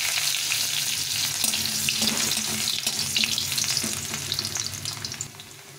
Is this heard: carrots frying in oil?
yes